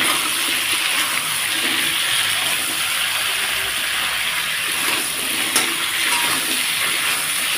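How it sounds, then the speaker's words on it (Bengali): Mixed salted vegetables fry in oil in a pan, giving a steady, loud, close hiss that runs without a break, with an occasional faint stir and no voices. "তো এখন এটাকে লাল করে ভেজে নেব।"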